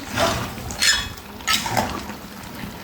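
Khichuri is stirred in a cooking pot, with three or four distinct scraping, clinking strokes of a spoon against the metal, close by and fairly loud, with no speech.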